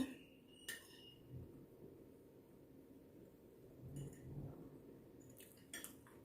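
Spoon knocking against a bowl as eggs are whisked for a cheese omelette, heard as sparse, soft metallic taps and clinks with a brief cluster near the end, close by in a quiet kitchen.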